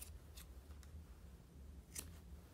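Scissors snip through the yarn ends of a hand-made punch needle rug, giving a few crisp, close cuts spread out over a low, steady room hum with no talking.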